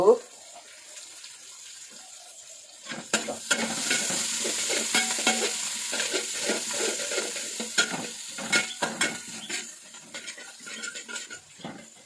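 Sliced onions and green chilies frying in a pan on a home kitchen stove, with steady sizzling and repeated scraping stirs from about three seconds onward, preceded by quieter handling noises.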